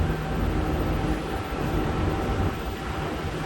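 A Bangkok Purple Line MRT train sits at a station, giving off a steady mechanical hum and rumble with a faint tonal whine, heard close and without talk.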